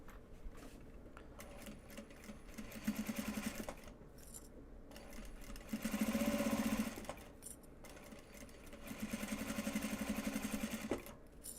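A sewing machine stitches an upcycled obi and kimono bag in three quiet bursts of rapid whirring, separated by brief pauses and soft handling noise.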